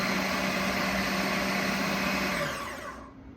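A blender on low pulses a batch of chopped peppers for jelly, a loud steady motor whir that holds for over two seconds and then winds down and fades out.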